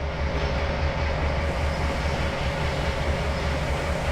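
Train running in the Trainz Simulator World Tour video game on Xbox Series X, a steady low rumbling roll with a faint rhythmic wheel clatter, continuous and fairly loud throughout.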